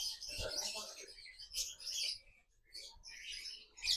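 A male lovebird gives bright, rapid chirping song phrases in several bursts with short gaps, fairly close, against a quiet background.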